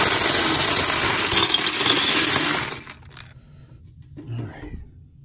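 LEGO pieces dumped out of a Charles Chips can, a loud rattling, clattering cascade of plastic bricks for a few seconds, then stopping abruptly, with a few faint knocks and settling clicks afterward.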